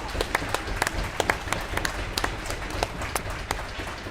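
A crowd at an ice hockey game in the Huntsville Ice Sports Center applauds, with scattered sharp claps over a steady background murmur.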